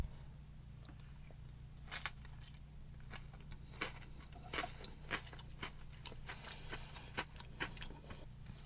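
Rye crackers topped with pearl barley and beef from a Russian officer's ration crunch in a series of sharp, close bites and chews over a low steady hum.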